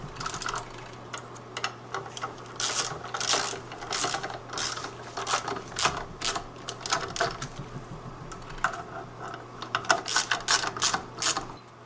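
Ratcheting wrench snugging clutch pressure plate bolts on a 1977 BMW R100RS, a steady run of close, crisp clicks and metallic ticks in short bursts, with a faint constant hum underneath.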